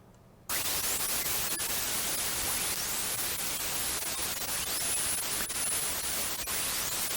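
Broadband radio static received from the HAARP high frequency transmitter through a quarter wave antenna, a steady loud hiss switching on abruptly after a brief quiet start and running unbroken, with faint swept tones drifting through it.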